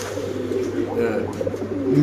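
A male red short-face pigeon coos in low, rolling pulses close by, with faint background noise and some murmuring.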